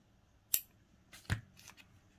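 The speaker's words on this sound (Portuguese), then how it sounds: "depois a gente corta todos esses fiozinhos" Scissors snipping loose yarn threads from a crocheted piece, two or three quick, quiet crisp snips with pauses between.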